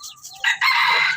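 A pet labuyo, a red junglefowl rooster, crows in the morning, one loud, close, harsh cock-a-doodle-doo that starts after a brief softer call and holds strongly to the end.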